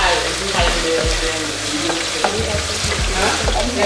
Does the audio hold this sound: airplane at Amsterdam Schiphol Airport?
no